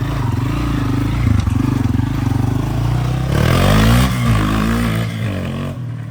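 Loncin 250 Ralli motorcycle riding in sixth gear through a forest, its engine a loud steady drone with rising revs midway and rattling chassis clatter, continuous throughout.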